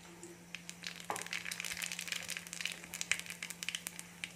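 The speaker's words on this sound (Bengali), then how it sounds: "এখন আমরা এর মধ্যে দিয়ে দেবো কালো জিরে ফোড়ন।" Nigella seeds crackle and sizzle as they drop into hot oil in a pan, a faint, quiet spitting that starts about a second in and keeps going as scattered small pops.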